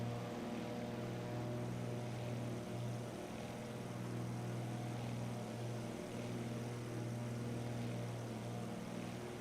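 A fixed-wing airplane flying in Microsoft Flight Simulator 2024 with a steady, close engine drone and propeller hum that holds evenly throughout, no voices over it.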